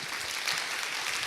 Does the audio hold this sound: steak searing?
no